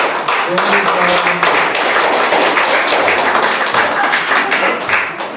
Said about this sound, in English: a round of applause for Kathy